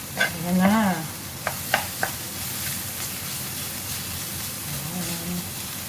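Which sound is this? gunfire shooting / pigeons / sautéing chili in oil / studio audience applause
sautéing chili in oil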